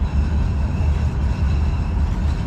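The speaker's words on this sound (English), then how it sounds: "there goes the train." A steady low rumble fills the whole stretch as a train rolls past nearby in Calgary, continuous and fairly loud with no voices.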